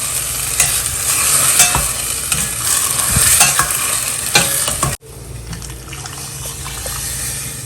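Mushroom curry stirred in a pan, loud wet scraping and bubbling sizzle with clicks of the spoon, continuing more softly after a sudden cut.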